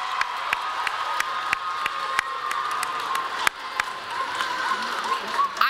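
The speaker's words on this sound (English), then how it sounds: "Give yourselves a round of applause." Audience at an arts program in a magnet school auditorium cheers and whoops over steady applause, with scattered sharp claps standing out and children's voices mixed into the crowd noise throughout.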